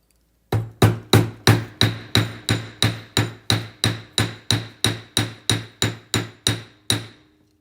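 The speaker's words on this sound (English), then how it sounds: "So I'm gonna hammer that out." A hammer strikes the end of a jewelry wire with about twenty sharp, evenly spaced metallic blows, close and loud, each ringing briefly before the next, with no talk.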